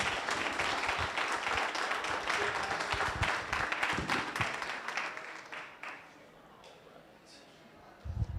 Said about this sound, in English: Please give Kelly Loeffler a round of applause.